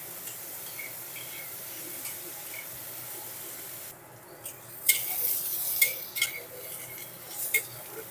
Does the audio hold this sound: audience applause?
no